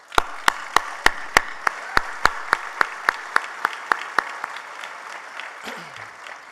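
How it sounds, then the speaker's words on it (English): Sparse, evenly spaced claps ring out at a commercial management leadership breakfast honoring award recipients, about fifteen sharp, close claps in a steady rhythm that stop abruptly, leaving quiet room noise. "Let's give another round of applause for today's honorees."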